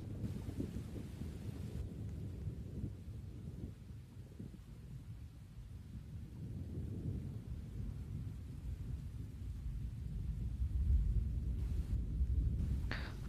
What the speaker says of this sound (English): I think maybe this is just a thunderstorm